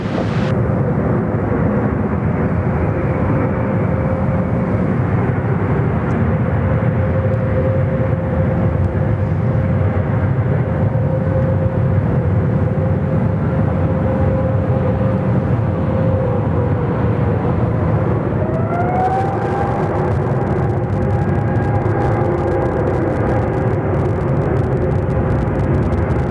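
Jet aircraft engines spooling up on runway 34 left at Sydney Airport, a loud continuous roar with a rising whine toward the end, heard from a spotting position some distance away.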